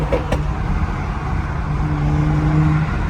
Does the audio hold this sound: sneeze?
no